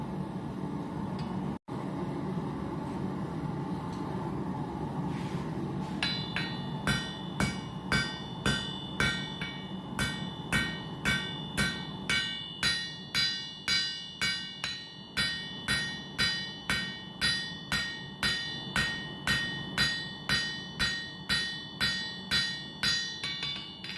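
Steady, rhythmic rounding hammer blows ring out forging titanium, dozens of sharp strikes in a regular cadence, close and clear with little else around.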